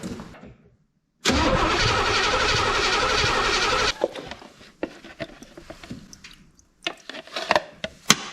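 A truck engine cranks over in one long, loud, unbroken stretch of about three seconds to push fuel through the line, then cuts off, leaving scattered faint clicks and drips.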